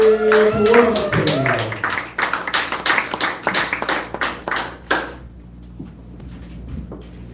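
Audience applause and clapping for a comedian introduced at a live comedy show, dense clapping for about five seconds and then thinning to a few scattered claps, with a brief voice near the start.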